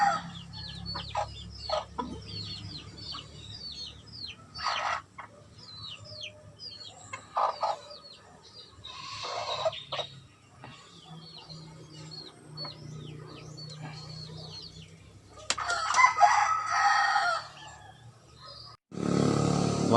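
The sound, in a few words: chicken clucking and rooster crowing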